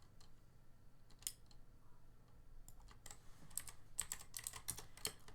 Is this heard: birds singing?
no